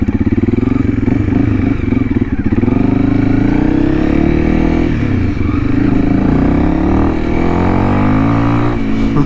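A Honda CRF 300L dual-sport motorcycle with a 550Performance ECU tune rides past up close, its single-cylinder engine droning loud and steady with shifting revs throughout.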